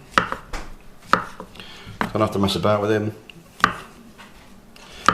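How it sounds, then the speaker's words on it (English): Knife chopping mushrooms thinly on a board for Steak Diane, a few sharp separate chops spaced through the clip, close and clear, with someone talking over them in the middle. "we're just chopping the mushrooms thinly"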